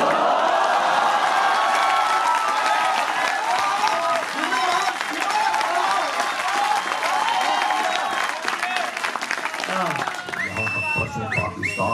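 Audience applause at a Hindi poetry recital, dense sustained clapping from a large crowd with some cheering mixed in, loud and continuous before fading near the end as a voice comes in.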